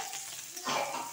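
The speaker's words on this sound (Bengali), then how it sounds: "নাইড়ে নিলাম।" Turmeric and salt being stirred in a frying pan of hot oil for paneer curry; a soft scraping stir gives way to a louder, brighter sizzle partway through, with no talking.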